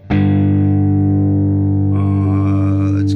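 An electric guitar chord is struck hard through the Neural DSP Archetype Petrucci amp sim and rings out loud and distorted with a long sustain. Fresh pick noise and string scrapes come in about two seconds in.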